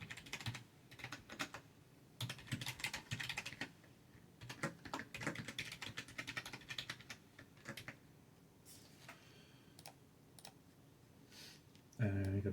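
Login details typed on a computer keyboard: close, quiet bursts of rapid key clicks with short pauses, ending with a brief louder thump.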